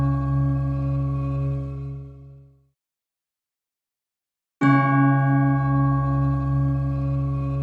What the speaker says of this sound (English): I have this longitudinal tubular bells